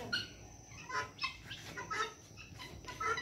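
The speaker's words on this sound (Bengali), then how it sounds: "এই যে এই খোয়ারের মধ্যে চীনা মুরগি, হাঁস এগুলো থাকে।" Chickens and ducks near a backyard coop give a run of short, bright clucks and squawks, several calls in quick succession at moderate distance with no talk.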